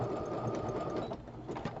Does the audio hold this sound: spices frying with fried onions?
no